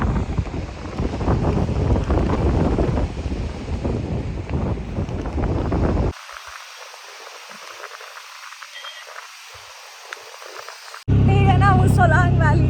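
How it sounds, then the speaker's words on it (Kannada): Strong wind buffets the microphone on the road to Atal Tunnel, with a river rushing nearby, a loud roar that drops to a quieter hiss midway before a burst of loud noise returns at the end. "ಇಲ್ಲಿ ಸಿಕ್ಕಾಪಟ್ಟೆ ಗಾಳಿ ಇದೆ"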